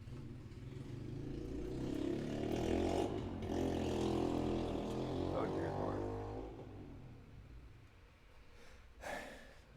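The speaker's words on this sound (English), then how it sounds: "Loud motorcycles, man." Loud motorcycles pass outside, a rumbling engine swell that builds, holds for several seconds and then fades, with a person talking over it indoors.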